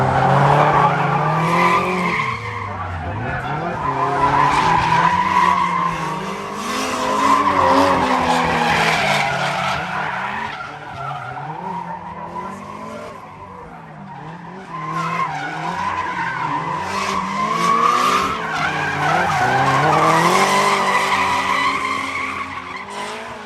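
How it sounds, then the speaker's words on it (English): Drifting cars, among them a Nissan S15, skid uphill with another car tight on its back bumper. Loud, continuous tire squeal and revving engines rise and fall across the whole run, with no talk. "Eric right there with him, right on the back bumper of the S15"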